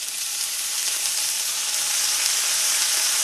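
Red wine splashed into a hot pan during Cajun ribeye cooking hisses and sizzles loudly and steadily, a bright continuous crackle close up, with no talking.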